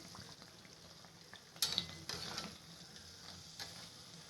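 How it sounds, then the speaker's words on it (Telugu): Small balls of urad dal dough deep-fry in hot oil, giving a faint, steady sizzle with a few louder crackling bursts. "పిండి తీసుకుని ఇలా చిన్న చిన్నగా చేసుకుని ఆయిల్లో డీప్ ఫ్రై చేసుకోవాలి"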